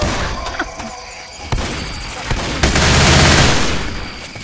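Shotgun fire from the zombie shooter game Left 4 Dead 2, loud bursts of gunfire and impacts in quick succession over several seconds, with a busy mix of game noise underneath.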